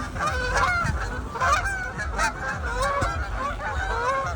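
A flock of geese honking continuously, many overlapping calls close by, loud and busy throughout with no talking.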